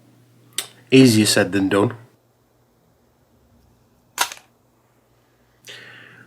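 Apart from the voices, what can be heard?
snipping off a cable gland with cutters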